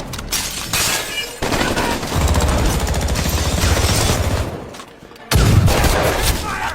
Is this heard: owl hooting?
no